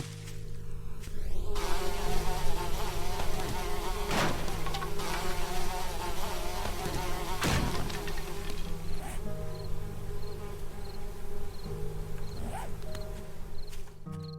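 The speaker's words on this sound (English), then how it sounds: "What's the bees making that noise?" Bees buzz steadily through the survival game 7 Days to Die, a continuous insect drone mixed with game ambience and occasional soft thuds, loud and close throughout with no talking.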